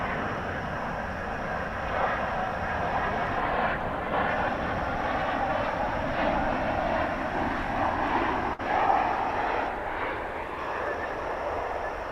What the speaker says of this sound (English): So we've got a flight coming in from Burbank, flight 2599, 737-800.